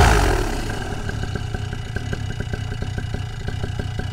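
A small engine idles with a steady, rapid mechanical beat and light clatter, running close and continuous with slight variations in speed as it responds quickly to the throttle.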